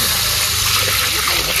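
Water pours steadily into a pan of cooked-down spices (chilli powder, cumin powder, turmeric) for a fish curry, a loud close rushing splash that lasts the whole moment without talk.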